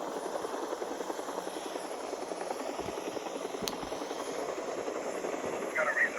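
A steady loud aircraft engine drone from the Resident Evil 3 video game, a continuous broad roar with a faint rhythmic chop that holds at an even level throughout.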